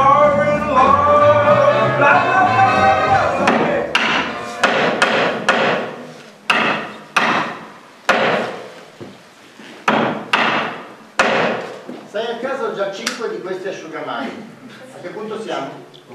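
Hammer blows ring out on a theatre stage during a comedy show, a run of sharp repeated thwacks after a stretch of music and singing, with some talk between strikes.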